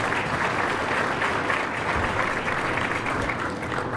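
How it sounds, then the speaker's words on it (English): Sustained audience applause at a regenerative medicine luncheon, a dense, even wash of many hands clapping that holds steady for several seconds. "if we could give a round of applause to them for their support of this event"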